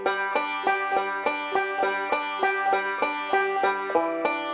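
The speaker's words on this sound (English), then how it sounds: "If I added a slide to it, that would sound like this." A banjo plays a steady, bright forward-roll picking pattern with a slide worked in, its even plucked notes repeating in a quick rhythm, close and clear with no talk.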